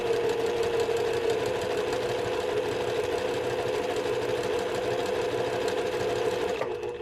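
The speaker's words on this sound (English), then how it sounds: "I'm going to stitch a perfect 1/4 of an inch." A domestic sewing machine stitches pieced quilt block fabric in one steady, close, humming run of rapid needle strokes that stops right at the end.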